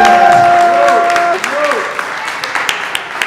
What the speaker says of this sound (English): I want y'all to, like, clap for her